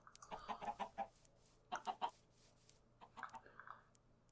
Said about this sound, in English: here's some of the new chickens, some of the warm variant of chickens